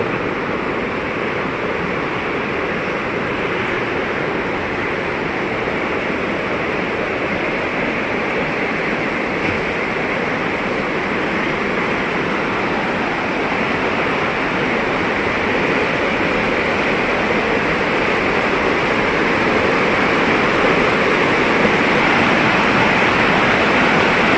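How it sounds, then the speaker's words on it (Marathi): A monsoon waterfall at Kalvi, Devgad, roars in a dense, unbroken rush of water, loud and constant throughout with no voices. "निसर्गरम्य धबधबा आहे मित्रांनो"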